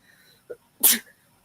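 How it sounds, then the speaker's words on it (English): A single sharp allergy sneeze, close and loud, preceded by a short inhaled catch of breath, in an otherwise quiet room. "There I go sneezing again."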